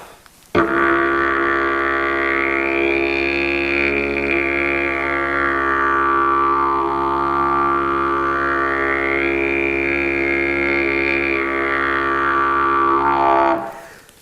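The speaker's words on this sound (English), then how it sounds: "Now, through the didgeridoo, that's going to sound like this." A didgeridoo drones a steady low fundamental while a phasing overtone sweeps slowly up and down twice, loud and continuous for about thirteen seconds, with no voices over it.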